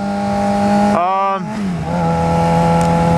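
A car with a newly fitted aftermarket exhaust revs loudly and close by, the engine note climbing sharply in one burst before dropping back to a steady, droning idle.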